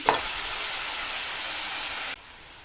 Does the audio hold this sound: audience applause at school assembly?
no